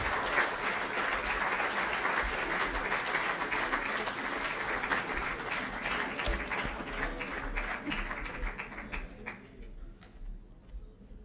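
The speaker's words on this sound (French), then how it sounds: "je vous demande de l'applaudir" Audience applause at a French champions' awards evening, continuous clapping from a seated crowd at moderate level, with individual claps becoming distinct as it tapers off in the final seconds.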